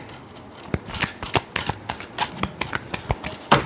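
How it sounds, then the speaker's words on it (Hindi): Tarot cards being shuffled by hand during a reading, a close, crisp run of rapid riffling flicks and slaps in an uneven rhythm, fairly loud and with no talking over it. "last shuffle"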